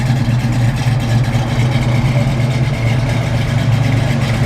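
A 1970 Ford Mustang Mach 1 V8 idles steadily with a loud, lumpy low rumble from its cam, holding an even throb throughout with no talk.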